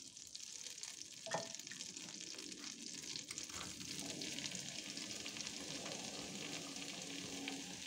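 Onion sizzles softly in melted butter for Swedish meatballs, a faint continuous frying hiss with a couple of light utensil taps and no voices.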